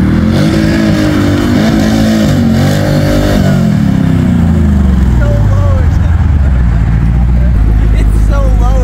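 A Jeep engine revs hard on a grassy off-road course, climbing quickly and bouncing off the rev limiter in rapid repeated pulses, loud and close, with voices talking over it.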